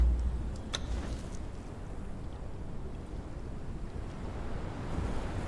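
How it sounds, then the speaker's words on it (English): Water from a shower running upstairs, carried through pipes in the wall, comes through as a steady, muffled rushing hiss that holds at an even level throughout, with no one talking. "Sounds like someone is taking a shower upstairs."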